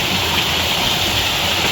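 Waterfall at Curug Situhiang in Majalengka roars as a steady, broadband rush of water, loud and close and unbroken throughout.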